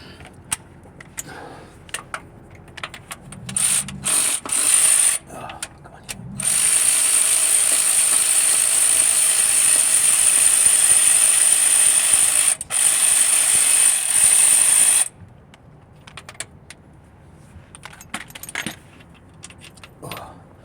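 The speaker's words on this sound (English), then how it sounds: "Ratchet" A ratchet wrench clicks in rapid bursts while working on the clutch of a Mercedes diesel van on a garage floor, close and loud, with long runs of ratcheting separated by quiet pauses and small metallic knocks.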